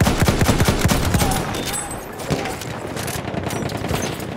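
Machine gun fire rattles in rapid bursts in the World War I shooter game Battlefield 1 during a defensive battle, loud and dense at the start and then thinning out into scattered distant shots.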